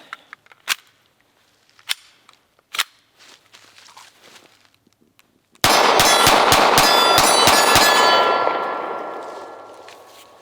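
A Hi-Point C9 pistol fires a full magazine of eight rounds in a fast, sharp, loud string with a ringing tail, after a few quiet handling clicks.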